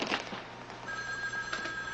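An office telephone rings in a newsroom setting, a faint electronic trill with a steady tone running through the second half over low room noise and brief background voices.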